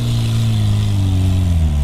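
UAZ off-road vehicles climb a sandy hill on a beach, their engines droning loud and steady with a low, sustained rumble that rises slightly in pitch as they pull up the slope.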